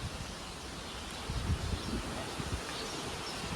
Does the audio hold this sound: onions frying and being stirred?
no